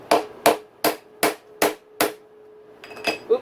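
A long bolt is hammered to knock out a dirt bike's steering stem bearing and blind puller: six sharp, evenly spaced metallic strikes ring close and loud, followed by a few lighter quick taps.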